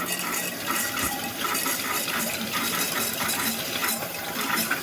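Filtered water from a Boel iTap gurgles and splashes steadily into a bottle, a continuous bubbling fill with no voices.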